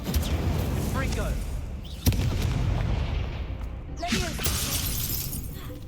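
Confringo spell explosions in the video game Hogwarts Legacy: a sharp blast bursts out near the middle, followed by a second crackling burst, over dense, continuous game battle noise with voices.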